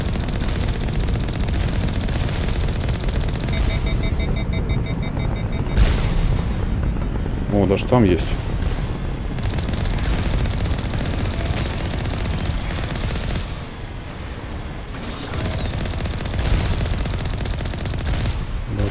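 Gunfire in the video game Mass Effect Legendary Edition, dense sustained bursts of rapid shots and booming impacts over a loud battle din, with someone briefly speaking over it.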